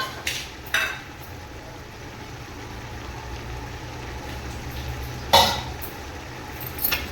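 Jackfruit being stirred in a pan with chilli powder, coriander powder and salt: soft scraping and a gentle sizzle, broken by a few sharp clinks of a spoon against the pan.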